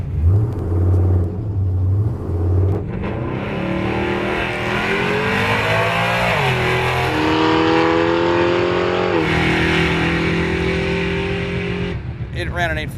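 A muscle truck making a drag strip pass: a deep idle rumble gives way to a loud, sustained roar that climbs through repeated rising rev sweeps as it accelerates, fading slightly near the end.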